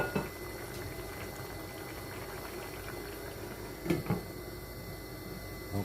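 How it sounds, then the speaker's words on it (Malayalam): Pork roast masala simmers in a pan as its water cooks down, giving a steady soft bubbling with a few louder pops and no talking. "വെള്ളം ഒന്ന് വറ്റി മസാല ഒന്ന് പിടിക്കാനുണ്ട്."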